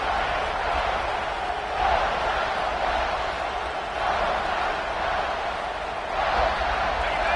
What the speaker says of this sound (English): you just know the home crowd is loving this